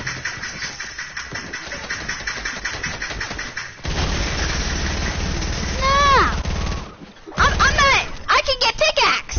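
Rapid bursts of video game gunfire rattle out in dense runs, mixed with other game effects, while players talk excitedly over the action.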